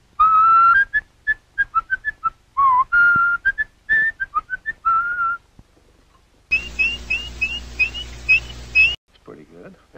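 An animatronic robin gives a bright, chirpy bird whistle that warbles in quick, rapid trills, pausing briefly before a long fluttering run of tweets.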